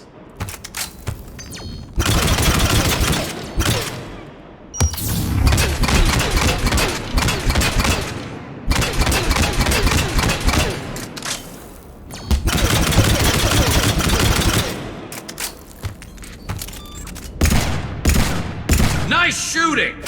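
Sustained bursts of automatic gunfire in the sci-fi shooter Mass Effect 3, dense rapid volleys lasting several seconds each and separated by brief lulls, loud and close, with a voice cutting in at times.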